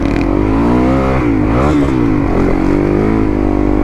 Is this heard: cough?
no